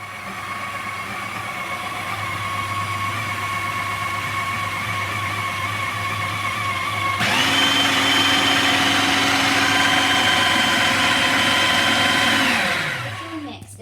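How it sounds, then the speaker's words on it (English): A blender mixing cake batter whirs steadily, then jumps to a higher, louder speed for several seconds before winding down and stopping. "then I'm going to put it in the blender with my"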